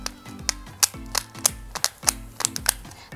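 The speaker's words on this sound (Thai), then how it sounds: "ทำของเล่นง่ายๆจากกระดาษมีเสียงดังเปาะแปะ" Sharp popping clicks from a handmade paper toy, arriving in quick uneven bursts of two or three snaps over a low rhythmic thumping background, close and distinct.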